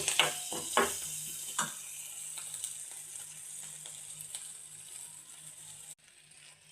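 Idli pieces sautéing in hot oil with a little salt, a soft steady sizzle with a few stirring scrapes early on, quiet and close, no talk.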